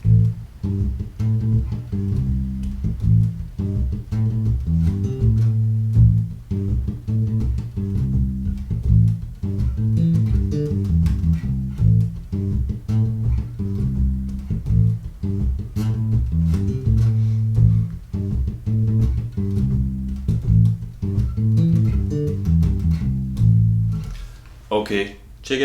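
Bass guitar groove built on the minor pentatonic scale, a steady repeating line of low plucked notes played alone with a backing track, sustained and loud throughout.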